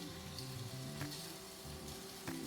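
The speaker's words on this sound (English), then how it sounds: "And what we wanna do is we're gonna brown these sausages." Sausages browning in an oiled skillet, a quiet continuous sizzle and crackle with a few brief clinks or stirring touches, heard close and alone.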